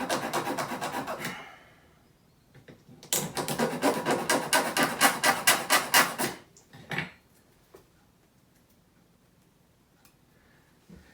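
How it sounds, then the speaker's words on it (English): File rasping off leftover plastic nubs from model roller coaster parts, two close bursts of rapid rhythmic scraping strokes separated by pauses, then a few faint handling taps. "I file down the leftover nubs that are there"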